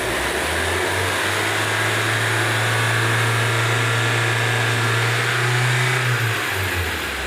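A tuned Honda Civic RS turbo engine running with a steady, loud drone that rises slightly in pitch and then settles back, heard close up with no talking.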